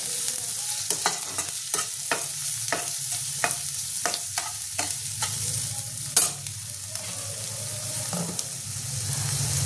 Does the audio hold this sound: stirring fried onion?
yes